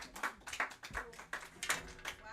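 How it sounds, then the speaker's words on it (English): A small audience claps for a speaker at a memoir-writing event, a quiet, sparse round of applause with individual hand claps clearly separated, fairly close and steady throughout. "let me get a round of applause for Janet Alvarado"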